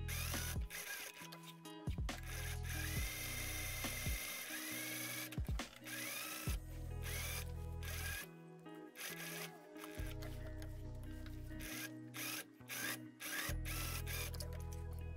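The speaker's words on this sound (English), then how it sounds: "I'm going to sew the side seams all the way towards that needle, pivot, go around the pocket to that needle, pivot again, and sew down towards the hem" A sewing machine stitches the side seams of a corduroy dress in repeated bursts of fast, humming mechanical chatter, each run stopping briefly before the next begins and ending as the fabric is turned at the pivots.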